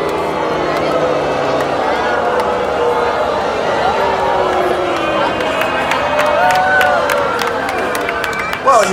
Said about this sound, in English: you can't be cheering because you didn't win, did you?